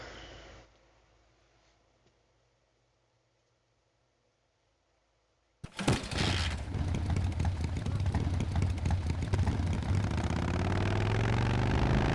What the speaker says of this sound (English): Back up to our lovely motorcycle.